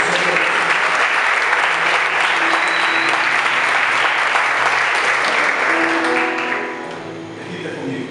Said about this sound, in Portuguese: Dê uma salva de palmas, Senhor.